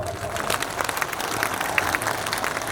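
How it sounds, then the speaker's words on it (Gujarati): Crowd applauding with raised hands at a community constitution gathering, a fairly quiet, steady patter of many claps heard from a distance, with no voices over it. "તો બે હાથ ઊંચા રાખી તાળીઓ પાડવાને ખબર પડે"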